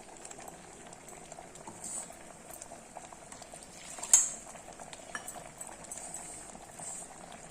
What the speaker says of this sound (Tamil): இந்த கொதிக்கட்டு நல்லா